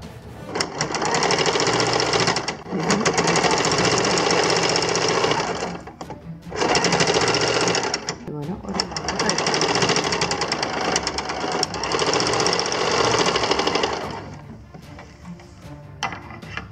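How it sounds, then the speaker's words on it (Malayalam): A sewing machine restitches a giant fish-shaped doormat in loud, close bursts of rapid needle clatter separated by short pauses, fading lower near the end. "ഇതിൻ്റെ മുകളിൽ കൂടെ ഒന്നും കൂടി റീസ്റ്റിച്ച് കൊടുക്കാം"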